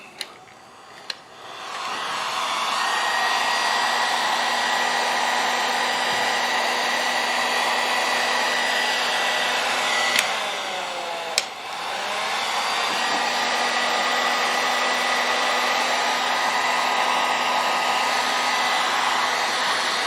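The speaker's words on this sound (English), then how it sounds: "We're going to get the heat gun. Just a regular old heat gun from Harbor Freight." Harbor Freight heat gun blowing hot air onto shrink wrap over a repaired pencil sharpener electrical cord, a steady loud whooshing hum that runs on with one short break and a couple of clicks.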